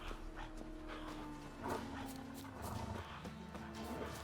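Wolf growling and snarling in the video game The Witcher 3, a steady rumbling growl with a sharper snarl partway through, heard over the game's background sound.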